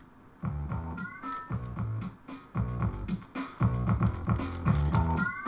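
A Metal Gear sound plays from a game on a modded Sega Mega Drive: a rhythmic chiptune sequence of repeated, stepping synth bursts, quiet and close, pulsing in regular groups with no voices.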